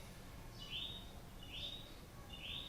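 A bird in South America repeats a high, drawn-out call three times at an even pace, faint against a steady background hiss.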